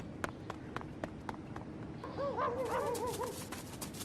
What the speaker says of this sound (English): Cassie heard loud barking.